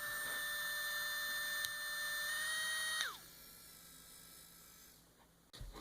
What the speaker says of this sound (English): Little motor sound.